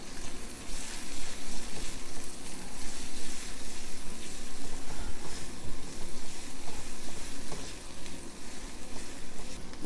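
Stir-fry noodle ingredients sizzle loudly and steadily in a hot pan as Badia seasoning goes in, a dense continuous frying hiss with faint stirring scrapes and no talking.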